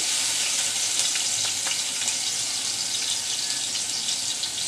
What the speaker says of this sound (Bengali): অল্প করে গ্রেটার করে পেঁয়াজ দিয়ে দিচ্ছি